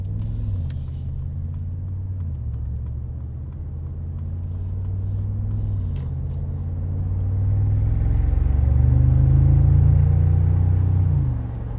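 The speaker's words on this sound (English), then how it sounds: "I love the uniqueness of the exhaust note on this" A 2025 Mercedes-AMG G63 G-Wagon's 577 hp 4-liter biturbo M177 V8 burbles with a deep, steady exhaust rumble, swelling louder as revs rise near the end, with no talk over it.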